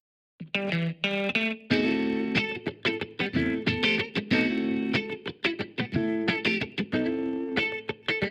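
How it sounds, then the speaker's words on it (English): Soloed rhythm guitar track run through a phase distortion effect that adds mild dirt before the amp: bright, chopped chords strummed in a tight, stop-start rhythm with short gaps between hits. "So here I've got some phase distortion."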